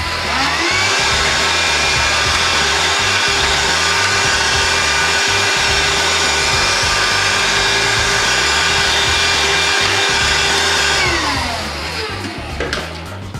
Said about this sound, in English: get this handheld vacuum of some sort and just go in there and clean the filter a little bit better